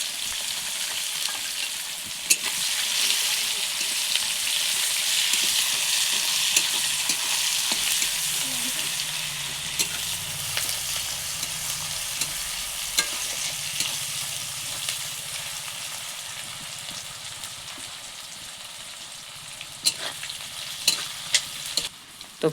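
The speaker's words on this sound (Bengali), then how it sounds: "এই পেঁয়াজটিকে প্রথমে লাল লাল করে ভেজে নেব।" Chopped onion with bay leaf fries in oil in a pan for a Bengali mutton and potato curry. A steady, moderately quiet sizzle carries on throughout, with a few sharp utensil taps near the end.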